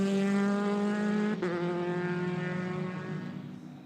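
A Euroformula Open race car at Spa-Francorchamps roars loud and close, its engine note steady and high, with a brief gear-change blip before the sound fades slightly as it moves away.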